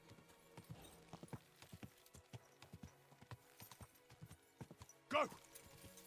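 Horse hooves clip-clop at a steady walking rhythm across a medieval setting in the Kingdom Come 2 video game, mid-distance and moderate, with a brief whinny-like burst near the end and faint voices in the background.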